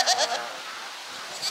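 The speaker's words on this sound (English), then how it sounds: "So we're having a conversation with the goats." Several goats bleat at a petting farm, a few short nasal calls clustered near the start and another toward the end, close and moderately loud over quiet background.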